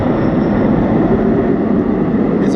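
An airplane flies overhead during a bass fishing outing, a steady broadband engine drone holding loud and even throughout with no talking.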